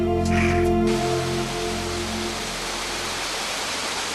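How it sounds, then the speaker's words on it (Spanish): Water in old stone cisterns built in the era of Philip II in Melilla, a steady broadband rush like falling or flowing water that fills the space, with a brief tonal hum at the start before it settles into even noise. "Resulta agradable el sonido del agua en los aljibes construidos en época de Felipe II."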